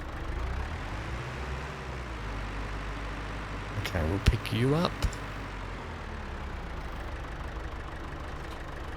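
An old John Deere tractor engine in Farming Simulator 25 idles with a steady low rumble, with a short burst of revving in the middle while a voice speaks over it.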